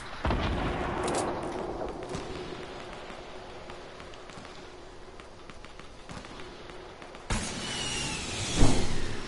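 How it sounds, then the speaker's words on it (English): Rapid gunfire from a video game battle, a dense, steady stream of shots across the whole stretch with a louder burst near the end. "Wait, I'll give you some cover fire."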